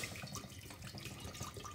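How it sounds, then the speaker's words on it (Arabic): Water from a tap pours steadily into a cooking pot while preparing Tunisian lablabi with chickpeas, a continuous close splashing rush lasting the whole moment with no talking. "توا باش نحطو الماء"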